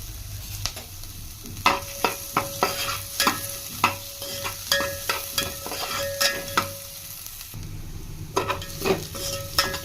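Dried red chillies fry in hot oil in a pan with a steady sizzle, broken by repeated sharp scrapes and clinks of a spoon stirring against the metal, close and fairly loud.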